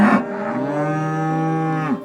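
A single cow gives a long, loud, sustained moo that holds steady for about two seconds before dropping off, a close and clear sound effect for an audio drama retelling of Pharaoh's dream of seven cows rising from the Nile.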